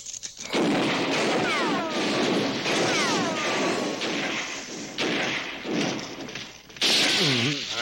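Gunshots in a French-dubbed Lucky Luke cartoon with the Dalton gang, a series of loud cartoon bangs and thuds mixed with whistling ricochet-like sweeps, close and punchy over a music bed.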